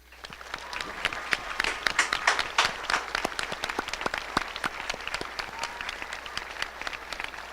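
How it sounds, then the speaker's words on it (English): A graduation ceremony audience claps enthusiastically, dense rapid applause that swells early and stays strong for several seconds. "Let's acknowledge them with a round of applause."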